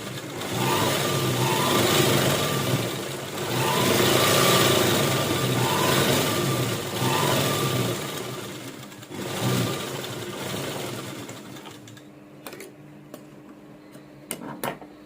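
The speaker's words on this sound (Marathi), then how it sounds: "तर चला मग मशीनकडं. इथं आपण आपली 1 नंबरची टिप टाकून घेणार आहे." Sewing machine stitching a folded hem, running in steady continuous bursts for about twelve seconds at close range, then stopping, with only light handling noises after.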